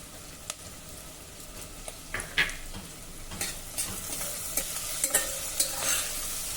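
Onion with crushed ginger and garlic being sautéed in a pan: a quiet, low sizzle under repeated light spatula scrapes and taps that grow a little busier toward the end.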